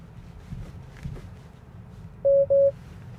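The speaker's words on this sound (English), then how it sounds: "the interior camera should know that I'm not watching the road, and it should beep at me and basically tell me that it's about to disengage" A Tesla driver-monitoring alert during Full Self-Driving (Supervised) on Australian roads sounds as two short, clear electronic beeps in quick succession over a low cabin road hum.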